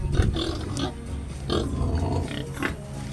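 A sow grunts repeatedly in her pen during breeding preparation, close and fairly loud, with low rumbling grunts spaced through the clip and faint farm background noise.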